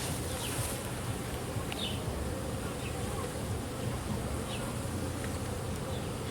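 Honey bees buzz steadily throughout a beehive inspection at a queenless colony, a dense, continuous drone with a few individual bees passing close by.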